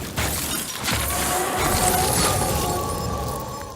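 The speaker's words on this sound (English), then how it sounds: "I used tinkling glass and crunching ice to match the hunger crystals that are covering the animals." Tinkling glass layered with crunching ice forms an eerie crystalline creature sound for the hunger monsters of the game Crowfall. The steady, close shimmering clatter of brittle shards runs without a break for a few seconds, with no voices.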